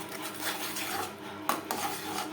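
Poppy seed paste is stirred in a wok over a low gas flame, giving soft repeated scraping strokes of a utensil against the pan and a couple of sharper metallic clinks.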